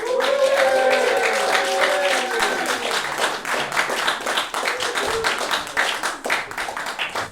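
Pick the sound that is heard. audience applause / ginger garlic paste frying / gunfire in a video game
audience applause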